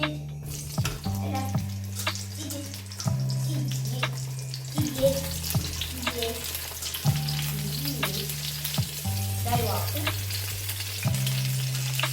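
Steady sizzling of potatoes frying in a pan, with occasional clinks and scrapes of stirring over a continuous low hum.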